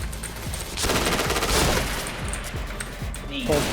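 Gunfire in the Point Blank shooter game, with bursts of rapid shots and booms mixed with game effects at a steady mid-distance, while a player talks over it.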